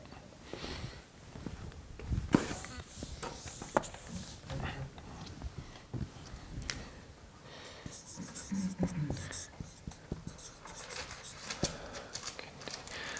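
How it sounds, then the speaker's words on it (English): A marker or chalk writes philosophers' names on a board in a lecture setting, producing faint scratchy strokes and taps scattered across the clip, with soft murmurs and quiet room noise around them. "Would you write the name of the first and second and third philosopher?"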